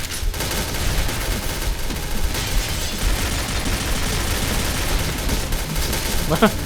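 Rattling gunfire in the online shooter Point Blank, a dense continuous stream of shots at steady loudness with a voice talking over it.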